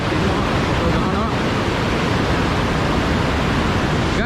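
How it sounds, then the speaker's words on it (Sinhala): Rushing water from the Parawiyan Ella waterfall stream in Sri Lanka's Uva region makes a loud, steady, unbroken roar that fills the whole stretch. "ඉතින් මේ මෙතන පොඩක් වතුර පාරක් තියෙනවා මේ හරියේ"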